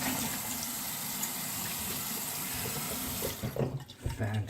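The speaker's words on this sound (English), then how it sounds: "let me get rinsed off" A bathroom tap runs steadily into a sink as someone rinses off after a shave, a loud continuous splash that gives way to brief uneven splashing near the end.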